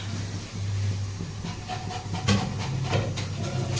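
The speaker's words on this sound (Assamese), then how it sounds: "চিমনিটোৰ পৰা ইমান বেছি চাউণ্ড আহে যে মই কোৱা কথাবোৰ আপোনালোকে শুনি পাই নাই" A kitchen chimney exhaust hood runs steadily close by with a loud, continuous whooshing hiss and a low hum, plus a few brief clatters over it.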